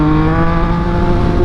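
Yamaha MT-09 motorcycle engine held at a steady, loud rev with the throttle slightly open, close by, tonal and continuous with no speech over it.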